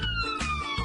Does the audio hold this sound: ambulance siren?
yes